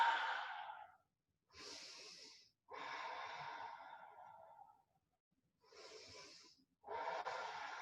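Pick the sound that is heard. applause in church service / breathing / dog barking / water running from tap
breathing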